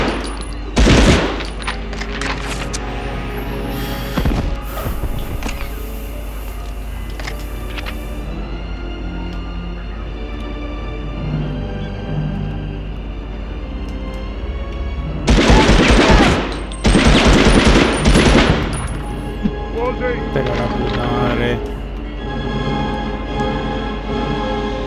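Gunfire in the PS1 video game Medal of Honor: bursts of rapid shots around the start, a sustained loud volley at mid-clip, and scattered shots over a steady game soundtrack.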